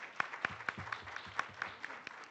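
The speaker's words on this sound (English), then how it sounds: "Let's give a round of applause to Director Laura." A small audience at a Nairobi Arbitration Week 2025 ceremony claps for Director Laura: about ten distinct, evenly spaced hand claps over a couple of seconds, faint and somewhat distant, with no talking.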